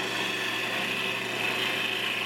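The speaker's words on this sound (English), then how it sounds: "I'm just hollowing out the inside of the lid a little bit with my bowl gouge" A bowl gouge cutting into a spinning locust wood lid on a lathe gives a steady, even hiss of shaving with no pauses or voices.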